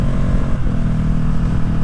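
A Ducati Streetfighter motorcycle engine with an Arrow exhaust and no silencer runs steadily with a deep, throbbing low rumble while warming up, close by and loud, holding an even idle without pauses.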